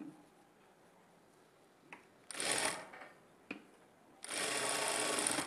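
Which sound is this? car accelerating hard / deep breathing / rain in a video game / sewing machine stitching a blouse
sewing machine stitching a blouse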